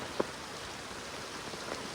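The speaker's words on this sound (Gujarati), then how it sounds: "કેટલો બધો ઘડી વાર વરસાદ આવી ગયો" Heavy rain pouring down outdoors, a steady dense hiss of drops hitting surfaces with one brief louder patter near the start, fairly loud and continuous with no voices.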